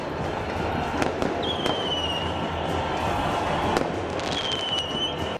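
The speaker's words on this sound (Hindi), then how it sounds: "खूब आतिशबाजी भी हुई।" A steady roar of fireworks fills a street celebration in Santiago, with dense crackling and sharp pops over a large crowd and a couple of rising whistles, loud and continuous.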